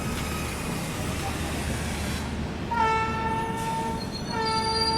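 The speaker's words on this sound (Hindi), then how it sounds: "सामने अराइवल हो रहा है हटिया पुणे एक्सप्रेस का" The Hatia Pune Express pulls in at an Indian railway station near a diamond crossing, with loud rolling wheels and rumble from the train and a long horn blast that sounds twice over the clattering approach.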